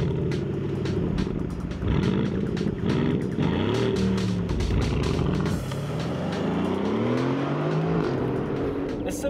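Engine of a 2018 Aston Martin Vantage, a raspy, polished note rising and falling through revs with gear changes, loud and close, with no talk over it.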